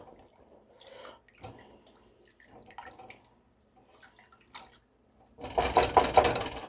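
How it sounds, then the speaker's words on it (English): Salt is stirred into water in a pot, producing quiet intermittent scrapes and swishes that build to a louder burst of splashing stirring near the end. "I'm going to just stir that salt up in that water real good."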